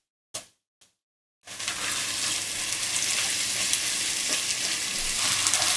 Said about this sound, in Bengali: আদা ও রসুন বাটার কাঁচা গন্ধটা চলে যাওয়া পর্যন্ত এটাকে একটু ভেজে নিলাম